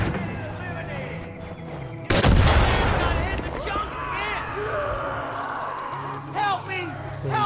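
Far Cry 5 gameplay erupts in heavy gunfire, with a loud burst of shots and blasts followed by continuing bangs and rattles mixed under game voices and people talking.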